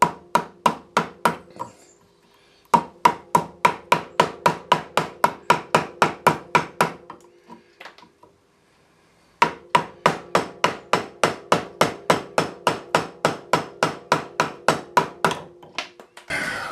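Steady hammer blows strike wood while a coffee table top with heavy grain reversal is worked, close and loud, in two long rhythmic runs of regular strikes separated by short pauses.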